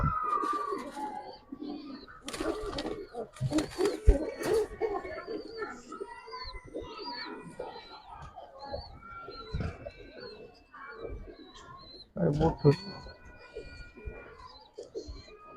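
Giribaz pigeons coo softly and intermittently, with low throaty calls rising and falling among faint chirps and occasional handling knocks, close and fairly quiet.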